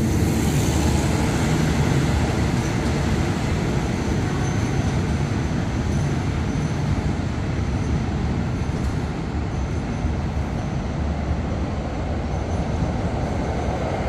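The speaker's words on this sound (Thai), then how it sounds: "เป็นขบวนระหว่างประเทศนะครับผสมกันไปผ่านบางซ่อนนะฮะ" International passenger train 169 rolls steadily past Bang Sue in Bangkok, Thailand, a loud continuous rumble of wheels and wagons with faint squeal, unbroken for the whole stretch.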